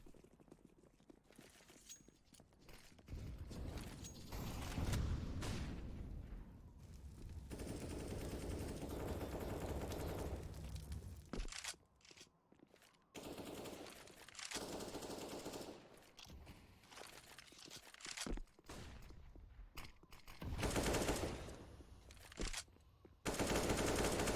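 Rapid gunfire sprays from a Counter-Strike match on the Nuke map, with bursts of automatic fire and louder peaks scattered across the clip under a busy game background.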